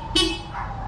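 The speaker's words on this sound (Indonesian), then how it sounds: "Coba yang manual. Yang klakson asli standar ya." A single short toot from the stock original horn of a Honda PCX scooter fitted with a lithium battery, bright and close, fading quickly into quiet background.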